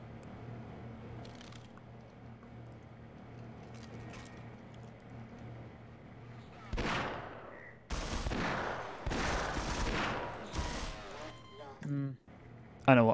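Shotgun blasts from the Half-Life video game come after a quiet stretch: several loud, booming shots in quick bursts with clattering tails, mixed with occasional voices.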